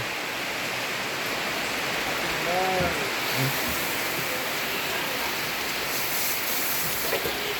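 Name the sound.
heavy rain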